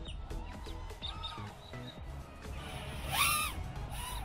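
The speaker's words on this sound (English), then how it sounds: "some very angry birds there." Birds give scattered chirps and calls, with a louder, sharper call near the end over a low, steady background hum.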